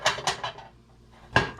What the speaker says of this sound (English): And we're gonna butter our pie pan.